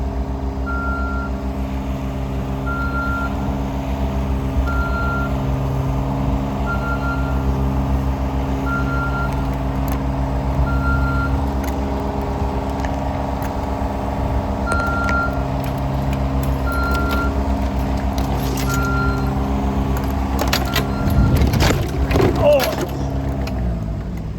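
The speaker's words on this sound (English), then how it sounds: "we're gonna have to drive over that with the loader" A loader on a tree-removal job reverses with steady, evenly spaced backup beeps over a loud, constant diesel engine drone, with rattling and clanking building toward the end.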